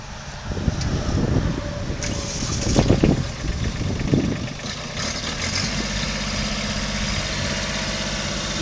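A 2015 Kubota B26 compact tractor with loader starts its engine, a brief rough cranking burst that settles into a steady low diesel idle, heard up close and unaccompanied by talk.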